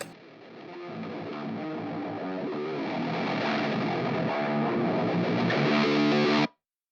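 A lo-fi rhythm track from a metal song mix with four automation tracks, including a sweeping high shelf, comes across as a dense, distorted wash that builds steadily louder before cutting off abruptly.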